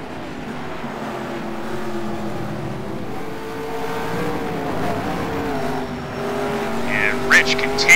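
Race cars power sliding side by side through turn 1 in a racing video game, engines whining and shifting pitch together, with tire squeal near the end and commentary over the top.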